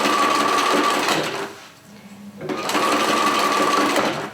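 A sewing machine runs in two steady bursts as it stitches along a fabric edge, with a short pause between them. The motor hum and rapid needle clatter sound close and loud.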